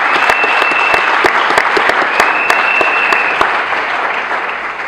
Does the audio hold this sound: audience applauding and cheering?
yes